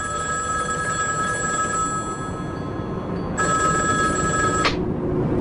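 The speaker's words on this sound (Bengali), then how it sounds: "এমন সময় টেলিফোন বেজে উঠল।" An old telephone bell ringing in a house, a sustained electric ring that breaks off briefly and then rings again loudly before stopping, over steady background noise with no voices.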